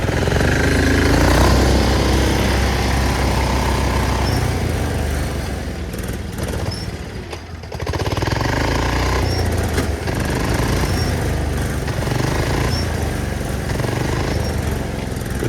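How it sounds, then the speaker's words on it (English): Two 1970s lawn tractors, a diesel-swapped Sears and a Cub Cadet, off-roading with engines straining: a steady, loud, rough mechanical drone with a hammering chatter that dips briefly midway, then resumes, with no voices. "these tractors have never really been good at pulling each other out"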